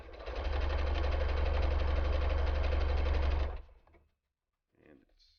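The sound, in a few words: Brother SE425 sewing machine sewing a zigzag stitch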